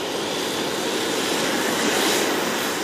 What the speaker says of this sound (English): For the Harrier engine, this is just ticking over.